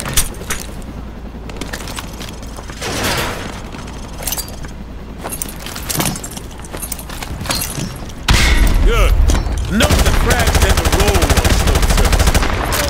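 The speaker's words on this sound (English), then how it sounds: "Toss the grenade down the range to take out several targets at once." Frag grenades tossed down a firing range in Call of Duty MW2 Remastered burst loudly among rapid gunfire, with a heavy sustained blast rumble dominating the second half.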